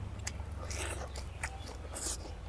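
Crisp, crunchy chewing of squid close to the microphone, with irregular bites and snaps repeating over a few seconds.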